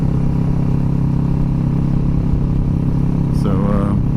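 A motorcycle fitted with a Delkevic SS70 slip-on exhaust runs at speed with a steady, loud engine drone and wind rush, and a voice speaks briefly near the end.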